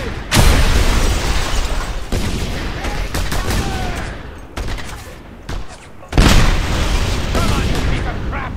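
Missile launches and explosions in Just Cause 2 boom loudly in repeated heavy blasts, each bursting suddenly then rumbling on, with a brief lull before a final strong detonation.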